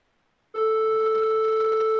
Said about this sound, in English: So this is a triangular wave like sound